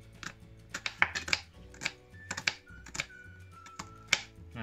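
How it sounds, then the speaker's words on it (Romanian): Knife finely chopping onion on a board for a Romanian winter pickle, a close series of irregular sharp taps coming in quick clusters with brief gaps. "O să tăiem toată ceapa mărunt-mărunt."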